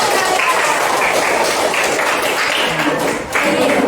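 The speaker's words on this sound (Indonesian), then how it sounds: "semuanya sudah fokus, tepuk tangan dulu." A classroom of students claps hands together in a dense, steady burst of applause lasting a few seconds, with a brief dip near the end.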